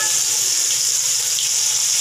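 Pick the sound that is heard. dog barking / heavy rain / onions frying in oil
onions frying in oil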